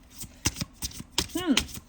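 Oracle cards riffled and shuffled by hand in a few short, papery bursts, close and moderately loud, with a voice speaking briefly in between.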